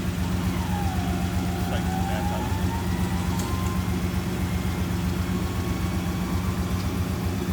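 A 1970 Oldsmobile Cutlass 442 engine idles steadily and close by, a low continuous rumble with faint higher whines drifting over it throughout.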